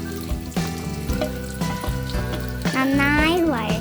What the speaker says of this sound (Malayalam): ഇനി വെളിച്ചെണ്ണ ചൂടായ ഇതിലേക്ക് ഉള്ളി ഇട്ട് കൊടുക്കുക.